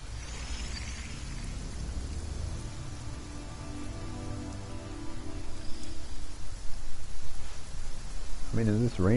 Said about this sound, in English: is this rain part of the story, or is it just raining for this long?